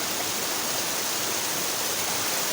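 Water pours down the Asurajhula waterfall in a dense, continuous rushing roar, close and loud, with no break or voices.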